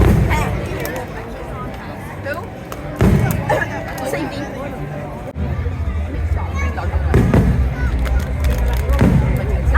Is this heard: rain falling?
no